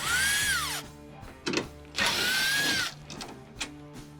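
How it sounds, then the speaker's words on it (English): A power driver spins 8mm-head screws out of a Jeep JT/JL/JK taillight, giving two long whirring runs with a pitch that rises and falls, separated by short mechanical clicks and rattles at close range. "They have an 8mm head, so we can just spin those right out."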